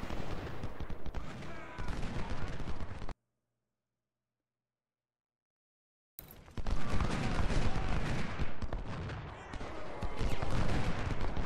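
Dense, continuous musket volleys from stacked infantry units in the Civil War strategy game Ultimate General, a roaring battle din that drops to silence for a few seconds before resuming loud and sustained.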